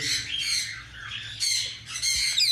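A white English ringneck parakeet breeder male squawks loudly and close, giving three harsh, raspy calls in quick succession with short gaps between them.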